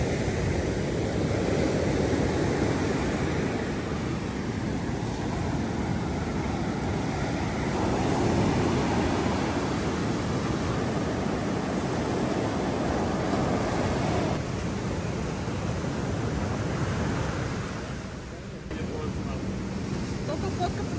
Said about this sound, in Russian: И дождик, и море немножко волнуется.